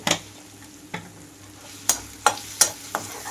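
Spice paste frying in a pan for mango and fresh coconut pulihora, a soft steady sizzle broken by several sharp scraping stirs of a spoon against the pan, close and alone with no talk.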